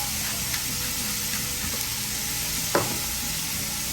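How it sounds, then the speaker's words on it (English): Vegetables sizzle steadily in a pan while being caramelized with kosher salt and black pepper for a one-pot pastalaya, a continuous close frying hiss with a brief scrape or clink near the end. "We're going to caramelize these veggies."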